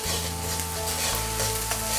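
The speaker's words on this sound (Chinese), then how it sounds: "先把姜葱蒜给它炒香" Ginger, scallion, garlic and chopped chili stir-fry in a hot wok, giving a steady, close sizzle with constant crackling and no talking.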